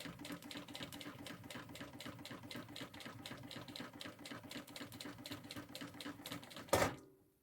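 A sewing machine runs steadily, stitching along the bottom edge of a draped fabric handbag with brightly colored thread. Its needle taps in a fast, even rhythm close by, ending with a short louder clunk as it stops.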